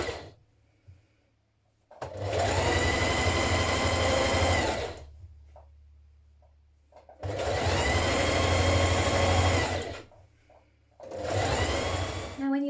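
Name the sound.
sewing machine sewing long seam of scarf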